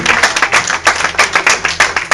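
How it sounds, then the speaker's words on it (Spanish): A church congregation claps in a steady rhythm during a Spanish-language service, each beat sharp and loud, roughly four to five claps per second, with no talk over it. "Dale el aplauso"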